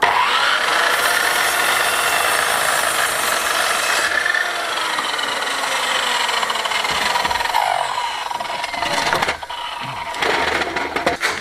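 Power saw cutting wooden legs in a workshop, a loud continuous buzzing whine with shifting pitch as the blade works through the timber, ending in a few sharper bursts as the cuts finish.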